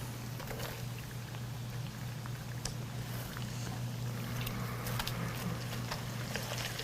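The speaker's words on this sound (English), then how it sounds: "We're going to add in our onions, and we're just going to kind of saute these for about 3 to 4 minutes" Onions saute in bacon grease with a soft, steady bubbling crackle and light patter, faint and continuous against a low background hum, with no talk.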